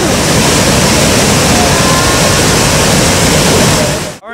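A waterfall splashes onto a rapids ride at Europa-Park in Germany, a loud, close, roaring wash of water that holds steady for about four seconds before cutting off abruptly.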